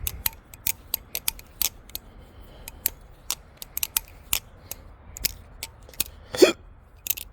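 A balisong butterfly knife, a replica trainer, is flipped and spun, and its handles snap and clatter in scattered sharp clicks. The clicks come in irregular bursts, near and fairly crisp, with no talking.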